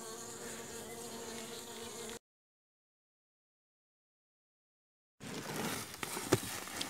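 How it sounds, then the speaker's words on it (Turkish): Honeybees at a weak hive drone in a continuous close buzz, broken by a stretch of total silence before the buzzing resumes with a few sharper handling sounds. "Evet, arılar çok az polen, biraz da bal getiriyorlar."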